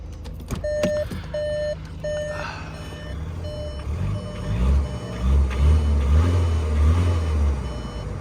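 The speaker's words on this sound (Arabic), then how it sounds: "نحاول نسمعكم الصوت ديال الموتور من برا قبل ما نتحركوا" Reversing beeps pulse at the start, then a Skoda Karoq 2.0 TDI diesel engine idles, heard from outside the car. The engine note is steady and fairly loud, with a deeper low rumble building toward the end.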